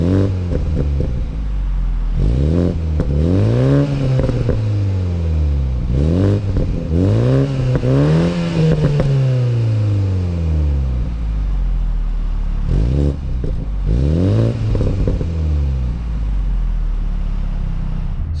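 A 2021 Toyota GR Supra with the 2.0-litre four-cylinder and dual exhaust revs repeatedly, each blip rising and falling in pitch over a steady idle, loud and close, with one longer sweep in the middle.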